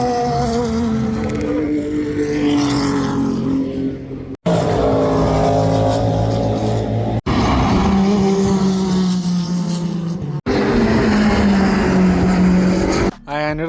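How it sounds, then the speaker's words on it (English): Race cars roar past a track corner near Tertre Rouge in a series of loud, sustained passes, each engine note rising and falling, with brief cuts between them and people talking faintly underneath. "just watching the cars fly by you"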